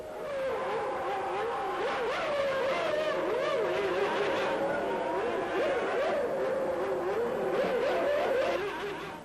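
Formula One racing cars from 1995 at Silverstone roar continuously at a distance, engines rising and falling in pitch as they accelerate and pass, a steady dense drone throughout.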